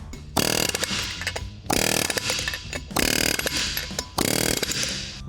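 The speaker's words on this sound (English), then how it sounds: "This is one of those jobs where I will use an air hammer." Four loud bursts of harsh, rapid hammering from a pneumatic air hammer removing wheel studs on a K10 square-body truck, each lasting about a second with short pauses between.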